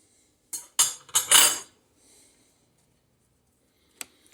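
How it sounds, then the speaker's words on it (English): A knife scrapes butter across a crumbly homemade biscuit in a few short, close, dry strokes, followed by near silence and a faint clink of cutlery at the end. "So let me put some butter on this bad boy."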